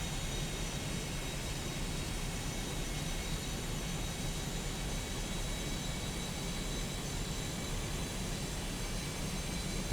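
Twin jet engines of a Me 262 spool up in the IL-2 Bodenplatte flight game, a dense, constant roar with a high whine, loud and unbroken throughout.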